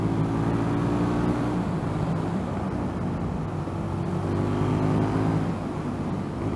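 An Indian FTR 1200 motorcycle engine pulling hard under acceleration, a loud, continuous rumbling drone with wind roar that holds steady throughout, heard from the rider's position.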